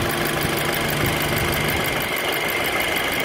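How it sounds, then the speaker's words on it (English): A Volkswagen radiator cooling fan running steadily, a loud, constant whirring hum layered with engine-like rumble, close and continuous with no speech. "In less than 1 minute, this fan should turn on."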